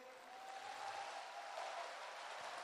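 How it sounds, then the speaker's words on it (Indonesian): Applause from a crowd at a PSI party national gathering, given for Yeni Wahid: a steady, faint wash of many hands clapping, sounding distant and continuing without a break for the whole stretch. "boleh kita kasih tepuk tangan yang paling meriah sekali lagi buat Mbak Yeni"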